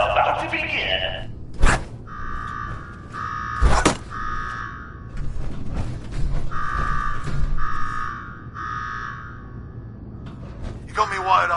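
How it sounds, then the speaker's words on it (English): A pulsing electronic alarm blares through Nuka-World in Fallout 4, repeating buzzy tones in regular bursts, punctuated by loud thuds and clanks, with voices talking over parts of it. "Now go shut off that damn alarm."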